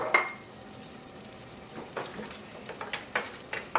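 Thinly sliced onion dropped into a small pot sizzles softly, with a few light stirring scrapes and taps scattered through, fairly quiet and close, no voices.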